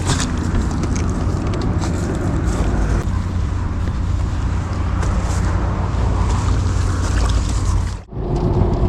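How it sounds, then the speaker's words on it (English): An outboard engine on a small fishing boat runs at sea on a rainy day. It makes a steady, loud, low drone with gusty wind buffeting, and dips briefly near the end. "Put on the engine."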